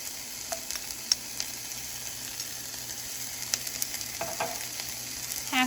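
Black beans and spinach fry in a pan with a steady low sizzle, broken by a few sharp clicks and scrapes from stirring, close but fairly quiet, with no voices.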